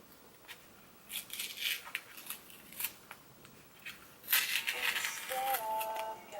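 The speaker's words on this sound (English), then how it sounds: "I think I just peeled the tape off." Tape peeled off a small cardboard box, heard as close, faint crackling and ripping bursts in several short pulls, with no talking.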